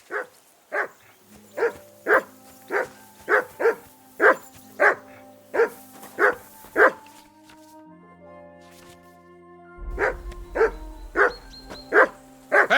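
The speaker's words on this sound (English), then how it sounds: "I assume you can hear that damn dog of yours barking." In Kingdom Come: Deliverance 2, a dog barks in a steady rhythm, about one bark per half second, clear and close over soft tonal music, pausing briefly before resuming with a low rumble underneath.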